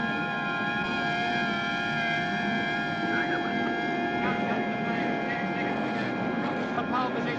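Race car engines rev before the start of the 1977 Hardie Ferodo 1000 at Mount Panorama, Bathurst. A dense, steady mechanical drone with layered tones holds loud and unbroken throughout, with a voice running underneath.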